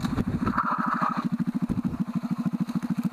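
A motorcycle fitted with an aftermarket exhaust idles close by, its engine throbbing in a steady, fast, lumpy pulse with a brief rev near the start.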